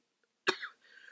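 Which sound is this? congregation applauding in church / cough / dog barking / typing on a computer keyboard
cough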